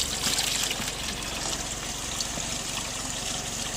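A mountain stream on Caesars Head trickles and splashes steadily as water is collected into jugs, a continuous close-up burble with no voices.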